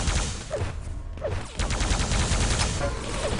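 Quake Live team deathmatch gunfire, with plasma gun and railgun shots, a rapid dense volley of electronic bursts and zaps with sharp whooshes, loud and continuous, heard under faint commentary.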